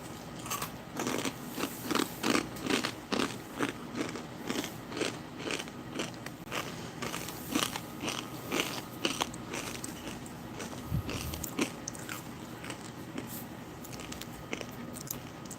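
Crunchy MRE Tuscan beef ration chewed up close, a steady run of sharp crackling bites and mashing crunches repeating irregularly for about fifteen seconds, with no talk.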